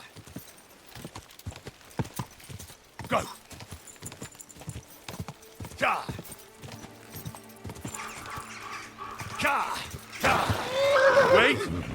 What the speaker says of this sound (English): Alright, calm down, horse. No need to make a fuss.